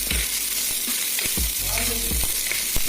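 Pork frying in a pan until brown in a home kitchen, a steady sizzle broken by several sharp stirring scrapes and clanks, close and fairly quiet with no talk.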